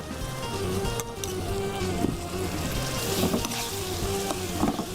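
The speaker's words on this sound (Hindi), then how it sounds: "इसकी करेंगे अब हम भुनाई।" Green chilli pickle ingredients roasting in a hot pan make a steady close sizzle with scattered crackles and a few stirring scrapes, and no voice is heard.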